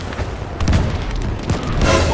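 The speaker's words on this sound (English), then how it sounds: "Oh, artillery!" Deep artillery booms from a Battlefield 5 match, a couple of loud heavy impacts rumbling over a steady battlefield din, with a brief voice in the mix.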